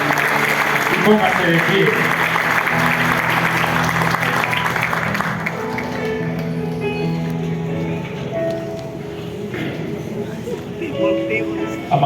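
A church congregation claps in a loud, sustained burst of applause that thins out after several seconds, with a voice speaking over it and scattered claps and murmur trailing on.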